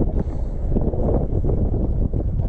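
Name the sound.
wind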